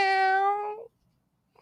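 A person imitates a cat's meow with a single drawn-out, strongly harmonic vocal meow lasting under a second, close and clear, followed by near silence.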